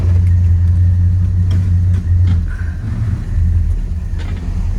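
A 1971 Chevrolet El Camino Super Sport with a 350 V8 driving, a loud, close low engine rumble that rises and eases slightly as it rolls along, with no talking.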